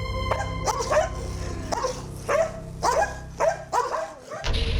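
A dog barks and yips repeatedly, about six or seven sharp, close barks in an uneven rhythm over a steady background hum, with no talking.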